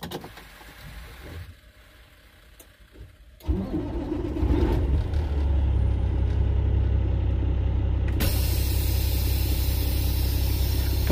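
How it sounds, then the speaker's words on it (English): A tractor-trailer truck's engine cranks and fires after a few quiet seconds, then settles into a deep, steady idle rumble that stays loud and close until the end. "start up your truck"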